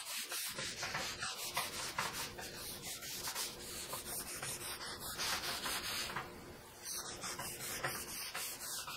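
Sandpaper rubbed against the grain across painted wooden furniture to distress it, a loud close rhythmic scratching of rapid back-and-forth strokes with one short pause, with no talking.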